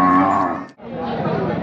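A bull at a cattle bazaar in Belhe gives a loud, close moo, then a brief break and a second lower, rougher bellow, with faint murmuring of people behind.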